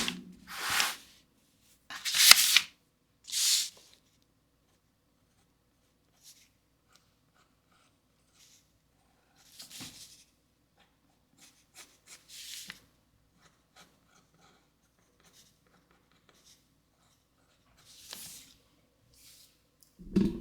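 A pencil scratches and rubs across paper in short, scattered bursts during a watercolour drawing session, close and quiet with long silent gaps between strokes and no talking.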